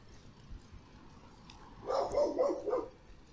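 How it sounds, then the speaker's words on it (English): A guard dog in a town near Manuel Antonio National Park, Costa Rica, gives a short burst of a few close barks after a quiet stretch with faint background noise. "So you got a guard doggo."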